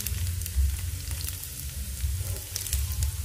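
Wheat gluten stir-fried in a hot pan gives off a steady, close sizzle with faint crackles and occasional scraping from stirring, loud and continuous, without any speech.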